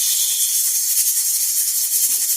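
A pressure cooker loaded with pork legs hisses a steady, loud jet of steam on the stove, a continuous high airy roar with no pauses and no talk.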